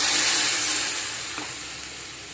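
Water hits a hot pan of turmeric powder for a tangy raw-tamarind dish, giving a loud, steady, hissing sizzle that eases off slightly toward the end.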